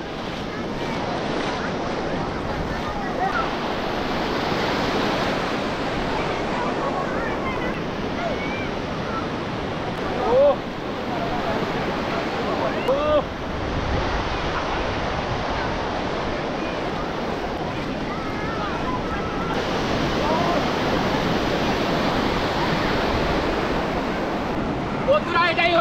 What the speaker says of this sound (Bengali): সামনেই দেখা যাচ্ছে উত্তাল সমুদ্র, আর সেই সমুদ্রের উত্তাল ঢেউ।